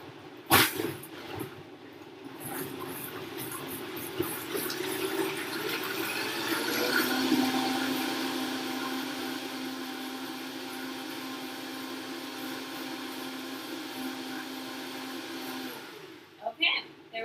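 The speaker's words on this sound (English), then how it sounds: "And then put the lid on. And then we're just going to blend it." A kitchen blender whirs steadily through a mixture for about fifteen seconds, with a loud, constant motor drone and a churning wash on top, then spins down and stops.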